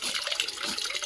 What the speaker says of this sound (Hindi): और ये है हमारा मुख्य जल स्रोत। ये है यहाँ पानी।